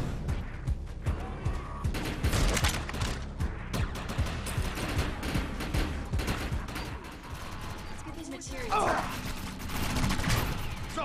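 Heavy gunfire rattles through a raider fight in the video game Defiance: rapid bursts and scattered shots crack close and loud over an ongoing battle din, with a brief lull and a metallic clatter near the end.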